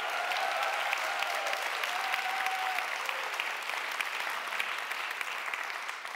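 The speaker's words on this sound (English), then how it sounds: "Round of applause for her as well." Sustained applause from a live audience at a talk, steady dense clapping filling the room throughout with a faint murmur of crowd underneath.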